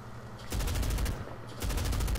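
Two loud, close bursts of rapid automatic gunfire in Medal of Honor (2010), each a fast rattle of shots lasting about a second, separated by a brief pause.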